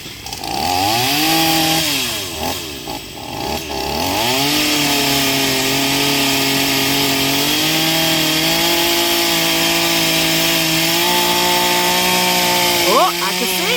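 A new gas chainsaw from Lowe's cutting down a tree outdoors, its engine revving loud and close, dipping and rising in pitch as it bites into the wood.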